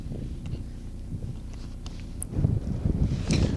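Strong wind gusts across a golf course on a windy June day, a rumbling, buffeting roar that grows louder and rougher in the second half, with faint scattered knocks.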